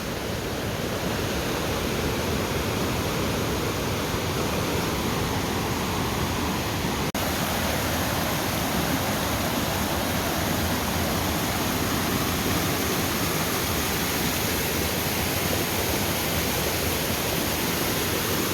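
A creek feeding a river runs strongly, a loud, steady, unbroken rush of water that fills the whole span, close, with no voices.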